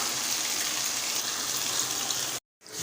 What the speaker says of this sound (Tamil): இப்போ இதில் நம்ம துருவி வச்சுருந்த மாங்காய் எல்லாத்தையுமே ஆட் பண்ணிடலாம்